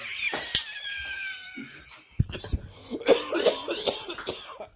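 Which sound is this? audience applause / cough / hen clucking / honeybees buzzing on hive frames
cough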